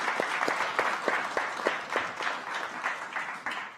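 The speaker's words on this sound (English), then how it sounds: "Please, a round of applause to him." Audience applause at the 2024 Carnegie Africa Forum, a sustained burst of clapping from a seated crowd that stays steady and fairly loud throughout, with individual claps audible in the mix.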